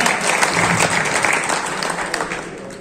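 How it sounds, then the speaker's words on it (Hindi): An audience at a Samajwadi Party workers' meeting in Kiratpur claps steadily and loudly, a dense continuous applause holding for the whole stretch and fading slightly at the end. "जोरदार तालियों से इनका स्वागत करें।"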